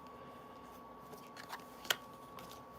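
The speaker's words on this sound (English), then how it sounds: "Give us one full shuffle." A deck of tarot-style reading cards is shuffled by hand at close range, soft riffling and rustling with a couple of sharper snaps and clicks, quiet and without speech.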